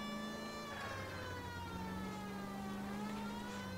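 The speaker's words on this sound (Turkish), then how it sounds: "Siren sesini kullanmak için H diyor." A police car siren from the video game L.A. Noire wails steadily and continuously, its rising and falling tone sustained over a low engine rumble, with no talking.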